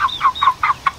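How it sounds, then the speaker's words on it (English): A young female chicken, a pullet under a year old, clucks in a quick series of about five short, close calls with brief gaps between them, heard clearly and alone. "A pullet is a young female chicken, less than a year of age."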